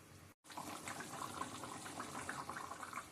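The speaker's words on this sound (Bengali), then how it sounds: "এখন ঝোলটা ভালো করে ফোটায় নিব।" Prawn curry gravy with potato and sweet pumpkin bubbling in a pot, a steady close simmering hiss with soft burbling after a brief cut at the start.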